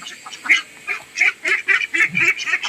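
Frightened young duck being caught, giving a run of loud, repeated distressed honking calls, close by with no talk.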